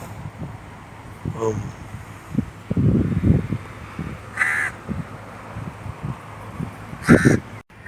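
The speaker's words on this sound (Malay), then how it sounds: "Tadi bunyi gagak tu, ni bunyi gagak tu." Crows caw a few times, harsh and spaced apart, from some distance in a park in Nilai, Malaysia, while a person talks quietly underneath amid outdoor noise.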